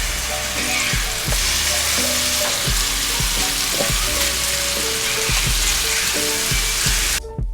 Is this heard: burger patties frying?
yes